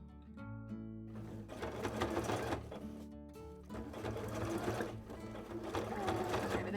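A sewing machine zigzag-stitches fabric scales in steady, close whirring runs with brief pauses between them, fairly quiet and heard mostly on its own.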